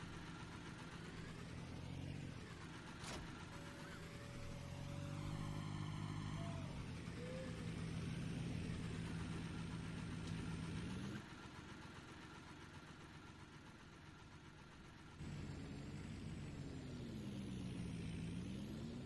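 Case tractor pulling a brush hog mower in Farming Simulator, a steady loud diesel engine drone with gear whine and shifting tones that drops briefly mid-way before returning.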